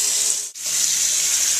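Hot water runs hard into a sink to fill a sanitizer bath for bottling beer, a loud close gushing hiss that briefly cuts out and then resumes steadily.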